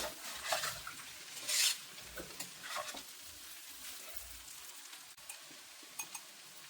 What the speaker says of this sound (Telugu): బాగా ఐదు నిమిషాలు బాగా కలుపుకుంటూ ఫ్రై చేసుకోవాలి